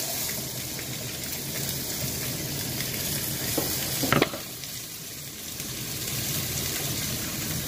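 Vegetables sautéing in a hot pan give a steady, dense sizzle close by, with a brief sharper clatter of stirring partway through, then the frying hiss carries on alone.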